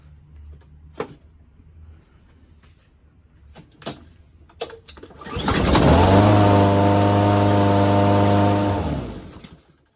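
A Honda GCV160 engine on a Toro Recycler lawn mower, just after carburetor cleaning, comes to life following a few clicks and knocks. It catches and runs loudly at a steady idle for several seconds, then cuts off.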